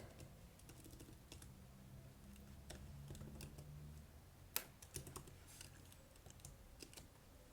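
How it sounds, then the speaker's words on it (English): Steady typing on a computer keyboard, faint and close, a continuous patter of soft key taps with a few sharper clacks midway, no voices. "Let me type it here"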